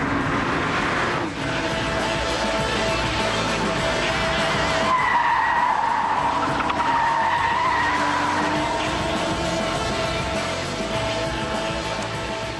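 An Audi RS4 understeers through corners at Alton Park racetrack in Cheshire: a loud, sustained engine roar with scrubbing tire squeal and skidding, heard close and continuous.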